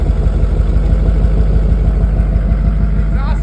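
An LV7 Duramax diesel truck engine, cold started with a partly removed exhaust, idles loud and low with a constant rumbling drone, close by, with no voices.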